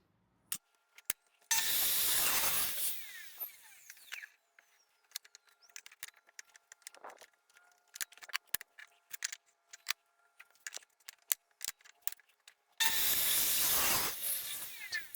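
A table saw cutting wood for the top and bottom of a small keepsake box: two loud, close bursts of blade noise a dozen seconds apart, with scattered clicks and light handling sounds between them.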